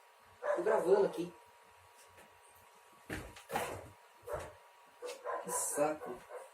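Pet dog barking and yipping in short bursts indoors, near and fairly quiet, with someone talking in between.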